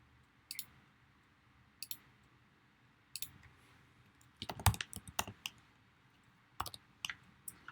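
Sharp computer clicks while saving a file as a PNG, several isolated single clicks and a quick burst of clustered clicks in the middle, close and quiet in an otherwise still room.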